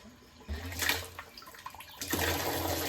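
Electric motor pump starting up to draw water from a well, giving a steady low hum with rushing, splashing water that swells at about half a second, dips, then returns stronger and continuous.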